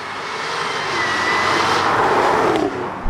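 A 700 bhp methanol-injected Jaguar F-Type S engine roars loud and close in a sustained, rising rush of noise, ending with a sharp pop or crackle.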